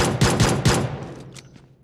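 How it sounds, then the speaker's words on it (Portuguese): PUBG Mobile gunfire: a quick burst of three or four loud, close shots in a fast rhythm, then fainter trailing reports and decay. "É tu que tá atirando?"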